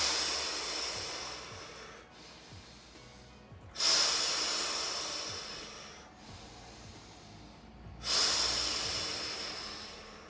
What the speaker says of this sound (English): breathe out really loud